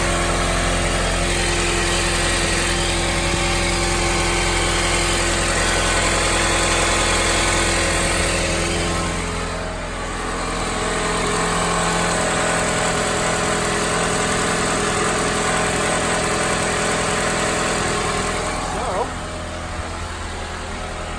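A 2014 Mazda CX-5 engine idles just after start-up following a serpentine belt replacement, giving a smooth, even hum that holds steady throughout with only small dips in level.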